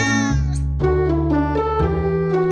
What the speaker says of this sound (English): Cats generally greet people or announce their presence with a short sound